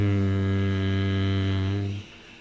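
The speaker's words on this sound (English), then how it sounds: "when we create a humming sound when we exhale" A person hums steadily while breathing out during a pranayama breathing exercise, a single low, sustained and loud tone that stops abruptly after about two seconds.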